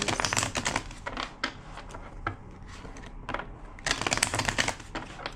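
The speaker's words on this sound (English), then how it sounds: "2 more shuffles." A deck of tarot cards is shuffled by hand in rapid bursts of crisp riffling and flicking clicks, close up, with short pauses between bursts and no voice over it.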